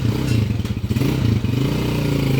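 A motorcycle with a 200cc engine conversion revs and clatters close by on a test ride, its loud throbbing engine rising and falling in short uneven bursts with a few thumps and scrapes.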